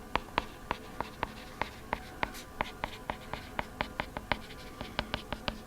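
A pen writes notes during a chemistry lesson, giving quiet, close, rhythmic scratching strokes and taps in a steady pattern.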